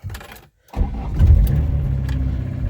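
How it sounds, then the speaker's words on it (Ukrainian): After a brief hush, a car engine cranks and catches, then settles into a steady, close idle. "Так, автомобіль запустився."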